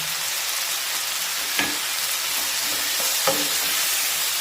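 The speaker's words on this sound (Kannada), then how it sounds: "ಹುಣಸೆಹಣ್ಣು ಇದಕ್ಕೆ ಹಾಕ್ಬಿಟ್ಟು ಅದನ್ನು ಹಂಗೆ ಫ್ರೈ ಮಾಡೋಣ." Tomato with salt and tamarind frying for chutney, a soft continuous sizzle with a couple of brief stirring scrapes, no talking.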